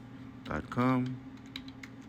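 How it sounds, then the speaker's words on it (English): Fingers type a web address on a computer keyboard, a few quiet close key clicks after a brief voice, sparse and irregular. "And then you're going to type in shopify.com."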